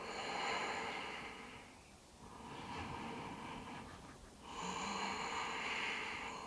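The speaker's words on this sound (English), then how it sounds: "Breathing out." A slow, steady exhale during an Ashtanga-inspired yoga flow, a soft breathy rush that swells and fades over several seconds, close and quiet with no talking.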